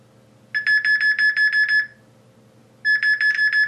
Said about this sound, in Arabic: اكتشف انه في كاميرا وبلش يزمر